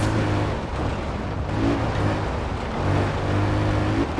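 The Mini X-Raid Countryman Dakar rally car in Forza Horizon 4 gives a deep, heavy engine rumble that swells and eases as it drives, close and loud with no talk over it.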